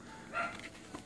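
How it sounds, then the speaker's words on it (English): A dog barks once or twice from a distance in a quiet indoor room, a faint short burst that stands apart from the low background hum. "sorry about my dog"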